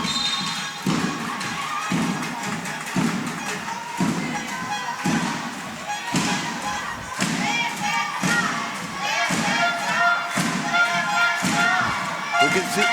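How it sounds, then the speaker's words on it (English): Spanish supporters in a crowd at a women's wheelchair basketball quarter-final against Germany, chanting in a steady rhythmic pattern of regular thuds and shouts, loud throughout, with commentary talk over it. "We can hear the Spanish supporters cheering."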